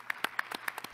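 A lone audience member clapping at a conference plenary: about seven sparse, uneven claps in a quiet room, faint and isolated.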